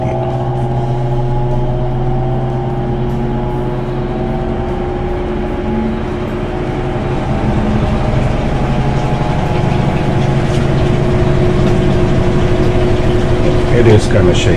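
An empty Maytag washer drum spins with a steady droning hum, rattling and shaking with faint clicks near the bottom; the motor noise builds slightly toward the end.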